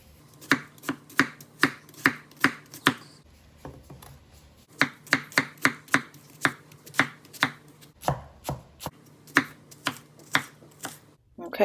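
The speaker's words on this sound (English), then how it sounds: "So now we are gonna cut the onion, and the onion will also be diced." A knife dices an onion on a cutting board in a home kitchen, giving crisp, evenly spaced chops close by in quick runs separated by short pauses.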